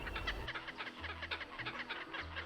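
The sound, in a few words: birds calling on a hike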